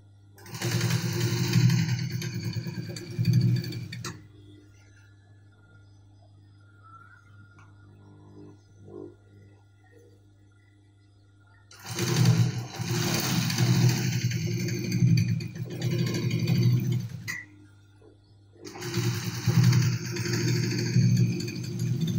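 Sewing machine stitching fabric for a senator placket design, three sustained bursts of steady mechanical whirring close by, separated by quieter pauses with faint handling noises.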